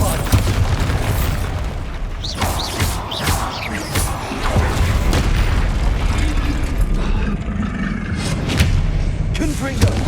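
Repeated Bombarda explosion spells burst during a Hogwarts Legacy battle, loud booms and crashes layered through continuous combat noise, with game character voices calling out between the blasts.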